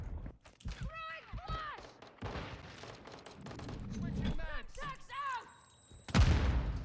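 Mortar explosions in a Call of Duty MW3 Ground War match sound as scattered dull thuds under voices, ending in a loud, close, booming blast.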